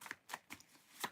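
Tarot cards being shuffled and pulled from the deck: four quick crisp riffling flicks spaced irregularly, close and fairly quiet, with no voices.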